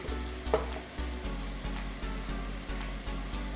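Masala sizzling and frying in a pot for one-pot chicken biryani, with rhythmic stirring strokes scraping through roughly every half second, close and steady with no talk.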